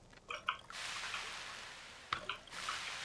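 Water dripping and splashing in a video game, with a few close, distinct drips and trickles between bursts of hissing water.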